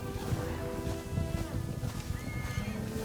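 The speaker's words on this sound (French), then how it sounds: "Oh les chevaux." Horses neigh in the samurai game Ghost of Yotei, several whinnies rising over a rumbling bed of hoof clatter and wind-like noise across about three seconds, with no voices.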